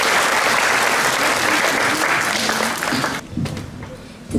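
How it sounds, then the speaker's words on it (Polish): A school patron's day audience in Poland gives loud, hot applause for all the participants, a dense wash of clapping that cuts off abruptly near the end and leaves a quieter room with faint low sounds. "Proszę jeszcze gorące brawa dla wszystkich."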